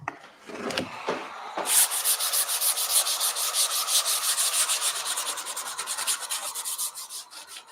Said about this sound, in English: All right, 220 grit sandpaper.